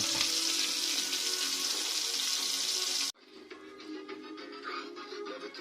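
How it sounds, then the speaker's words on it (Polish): Loud rushing, sizzling hiss of water poured onto hot fat in a pan, cutting off abruptly midway and giving way to quieter crackling and bubbling. "Tłuszcz na patelni zalewamy wodą,"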